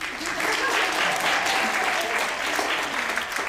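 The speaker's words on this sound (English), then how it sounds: "applause" Audience applause fills the room, thick and continuous at a fairly loud level, with a faint voice or murmur mixed beneath the clapping.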